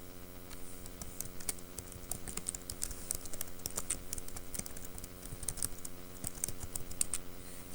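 Someone types a name on a computer keyboard, producing steady, fairly close clicking keystrokes in an uneven run, with a faint electrical hum underneath and no speech.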